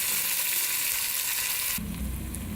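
Onions and potatoes fry in oil in a pan for a potato and egg dish, a loud, dense, continuous sizzle close by, shifting in tone briefly partway through.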